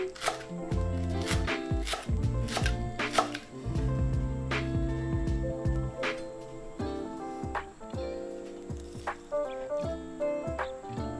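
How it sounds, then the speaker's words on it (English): A knife chops scallion on a cutting board for a Korean soybean paste stew, a quick run of sharp rhythmic taps over continuous background music. "Chop 1 scallion."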